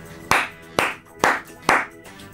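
A single person's hand claps imitated as foley, four sharp, evenly spaced claps close up with short decays between them.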